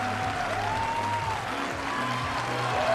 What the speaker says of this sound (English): just listen to the reaction from the crowd